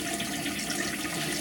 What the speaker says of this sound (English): So here, I'm going to turn on my warm and my cold, my hot and my cold.